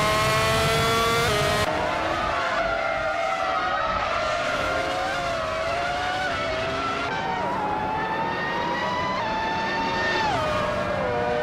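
Race cars in a racing video game, a McLaren MP4/13 among them, scream past with high, rising engine whines, steady revving and brief tyre squeals, loud and continuous throughout with no talking.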